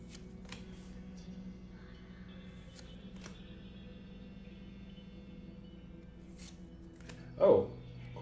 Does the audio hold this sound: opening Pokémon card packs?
yes